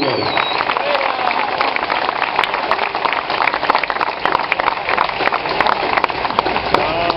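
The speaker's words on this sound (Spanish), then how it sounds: "Un aplauso para Nicolás Villot y su piloto Nicolás Villot." Crowd applause at the Rally Principe de Asturias 2009 award ceremony, a thick, continuous crackle of many hands clapping at a constant loud level, slightly muffled and narrow in tone.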